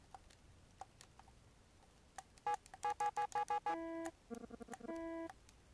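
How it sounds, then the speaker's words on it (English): Telephone dialing in the Famicom Detective Club video game: a run of short electronic key tones, then a steady busy-signal pattern of repeated beeps, clear and close with no talk. "Picked up the phone. Oh, I can dial."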